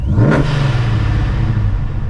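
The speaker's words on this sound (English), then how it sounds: "Oh, that exhaust. That doesn't get old. The sound of a forced induction Hemi is a beautiful sound." A supercharged Hemi V8 in a 2009 Dodge Challenger SRT8 revs hard through its exhaust, a loud close blip rising at the start and then settling into a deep, steady rumble.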